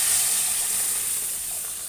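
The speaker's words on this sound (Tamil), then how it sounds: "இப்போ நம்ம இந்த கடைஞ்ச பருப்பை கொஞ்சம் இதில் ஊற்றிக்கலாம்" Mashed dal poured into a pan of spluttering mustard-seed tempering, giving a loud, steady steam hiss and sizzle that fades slightly toward the end, with no talking.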